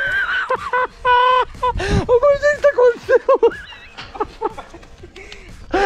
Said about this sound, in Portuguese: Pai do céu, cavalo louco aí